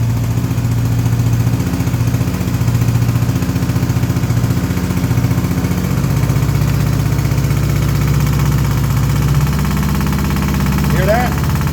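A 1984 Honda GL1200 Goldwing motorcycle with 93,616 miles and some faults, its engine idling a little high, a steady close low rumble with a slight shift in pitch partway through and someone talking over it.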